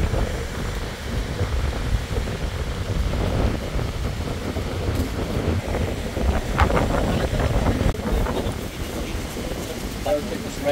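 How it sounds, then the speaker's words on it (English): Strong wind from a typhoon buffets the microphone on a beach in the UAE in a constant roar, with gusts and rustling and a voice talking underneath. "Windy, huh?"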